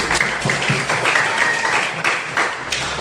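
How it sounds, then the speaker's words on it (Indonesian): Students in an eighth-grade Christian religion class break into brief applause, a lively, close clatter of hands with a few sharper individual claps standing out, lasting around three seconds. "Mari kita tepuk tangan dulu."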